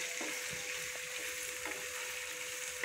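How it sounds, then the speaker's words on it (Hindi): Masala spices and tomato fry in a pan for bhindi gosht, a continuous close sizzle with small crackles and occasional stirring scrapes, and no talking. "ये मसाले को अच्छी तरह से भूनते हैं।"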